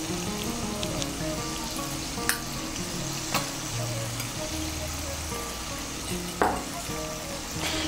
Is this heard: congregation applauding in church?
no